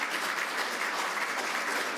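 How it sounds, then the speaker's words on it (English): Steady applause fills a brief stretch at a public event honoring a community member, a dense wash of clapping hands with no pauses and no voices over it. "Let's give her a round of applause."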